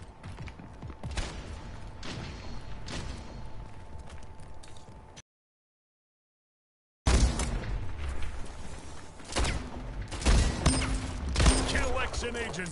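Sniper rifle fire in the first-person shooter Splitgate: sharp shots and mechanical clacks among busy game sounds, interrupted by a brief silent gap, then louder shots and action.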